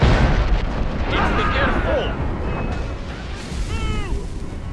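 Mortar fire in Assassin's Creed Rogue, a deep booming blast at the start followed by rumbling aftermath, with voices talking and calling out over the battle noise.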